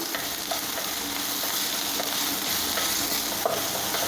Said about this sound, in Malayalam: ഇനി നമുക്കിത് നന്നായി ഒന്ന് മിക്സ് ചെയ്ത് കൊടുക്കാം